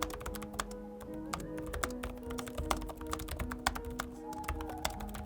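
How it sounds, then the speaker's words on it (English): Someone types on a full-size backlit keyboard with soft, quick, irregular key taps, close and fairly quiet, while a faint steady tonal hum runs underneath. "I actually really enjoy typing on this"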